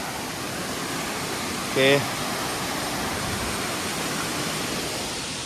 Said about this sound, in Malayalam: ചെറിയ രീതിയിലൊരു വാട്ടർഫാൾസ്, ചാത്തൻപാറ വാട്ടർഫാൾസ്.